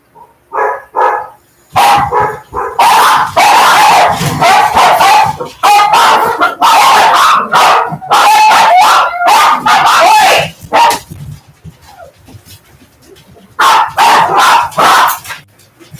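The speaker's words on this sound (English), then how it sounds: "Hey, what are you barking at?" A dog barks loudly and close by in repeated rapid bursts with brief pauses, and a few clucking fowl sounds are mixed in.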